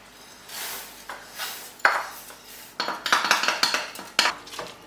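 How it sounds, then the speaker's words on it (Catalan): Rice toasting in a pan with reduced fish broth for arròs negre amb camagrocs is stirred with a utensil, giving irregular scraping clinks and bursts of sizzling rustle that grow busier and louder toward the end. "hi donem unes quantes voltes, de manera que es quedi torrat una mica l'arròs"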